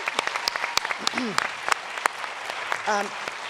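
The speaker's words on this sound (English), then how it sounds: "Let's give her a round of applause for moderating" Sparse clapping at an NYU mayoral forum on the environment, sharp hand claps spread irregularly across the room while an audience member's voice rises briefly in the middle.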